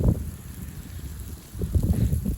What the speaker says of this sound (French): on a toujours le vent de sud à 60 à l'heure là